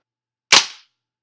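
A single sharp shot from a WE Apache MP5 gas blowback airsoft gun, loud and close, with a quick crack and short decaying tail, alone in silence.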